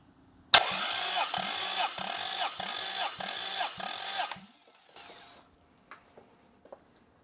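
An engine cranks over repeatedly with a steady rhythmic chug of about seven compression strokes during a cylinder compression test on a new motor, loud and close, then cuts off, leaving a few faint clicks.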